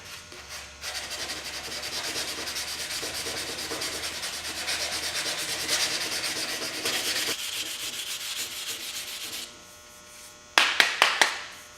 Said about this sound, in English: final sanding before primer, going with 320 grit